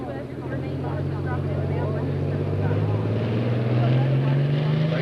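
A Pro Stock pulling tractor at a 1995 Connersville, Indiana tractor pull roars with a loud, rising engine drone as the revs climb, under an announcer talking over a PA.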